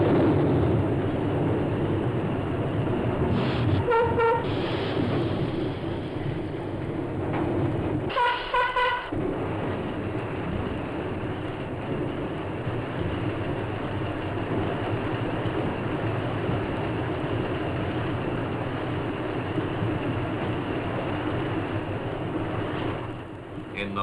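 A coal train waits below a bucket wheel excavator at an open-pit mine. A steady, heavy mechanical rumble runs throughout, with two brief louder clanking bursts early on.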